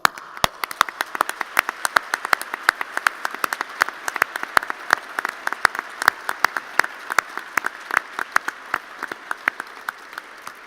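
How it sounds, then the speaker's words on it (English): Graduation ceremony audience applauding for a full-time MBA class of 2019, a sustained round of many hands with sharp individual claps standing out, steady and fairly close throughout. "a solid round of applause"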